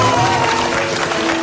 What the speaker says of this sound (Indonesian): tepuk tangan buat Mbak Christine Hakim.